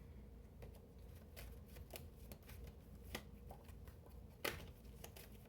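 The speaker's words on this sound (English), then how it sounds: "All right, let me give it a quick shuffle." A tarot card deck is shuffled in a quiet room, giving faint, soft riffling and light flicks in an irregular rhythm with a few sharper snaps, with no talking.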